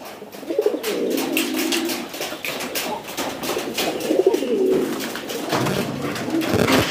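Pigeons cooing nearby, repeated soft throaty coos in a loose rhythm over a busy background.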